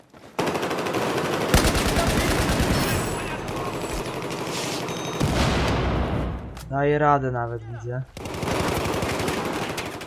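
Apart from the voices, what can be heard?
M4 rifle gunfire in video game Battlefield 4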